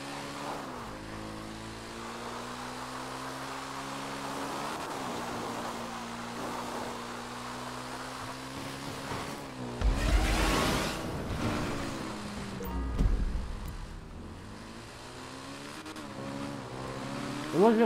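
A motorcycle engine revs in steady, harmonic bursts as the rider lifts the front wheel into a wheelie on a rooftop, pitch climbing and dropping with throttle, with gusts of wind noise swelling around the middle of the run.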